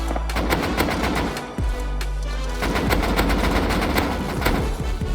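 Rapid automatic AK rifle fire in the survival game Rust, loud, close bursts of repeated shots with a brief pause midway, no talking.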